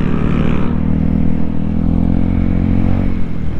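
Vespa scooters ride off at night with a loud, steady engine drone close by, a throaty motor hum that holds level throughout.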